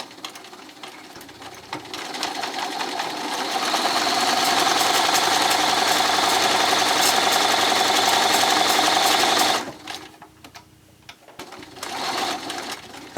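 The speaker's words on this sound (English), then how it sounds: "So just go ahead and sew a straight line" Sewing machine stitching a straight seam through T-shirt jersey, its steady mechanical whir running loud and close for about ten seconds before stopping, then a shorter burst of stitching near the end.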